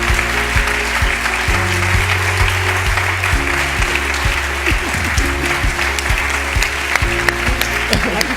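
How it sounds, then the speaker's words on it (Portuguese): Sustained audience applause at a live event, dense and loud for the whole stretch with occasional louder individual claps, following a call from the stage for a round of applause. "Joana, palmas, por favor."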